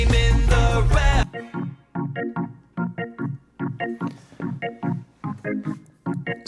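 Reggae keyboard bubble, short choppy organ chords bouncing in a steady eighth-note offbeat pattern after a brief sustained chord at the start, upfront in the mix.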